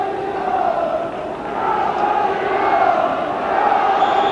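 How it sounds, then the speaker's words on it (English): Supporters on the terraces at a Scottish football match between St Mirren and Hearts, a crowd of just under 7,000, create a constant roar with sustained chanting tones rising and falling throughout. "Plenty of noise from the terraces."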